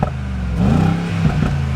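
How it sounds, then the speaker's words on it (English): A 2020 Mercedes G63 AMG in Sport Plus mode rumbles steadily with a short rising rev, its deep exhaust note close and continuous with a couple of faint pops. "I'm gonna put it in Sport Plus. And it does change the tone of the exhaust."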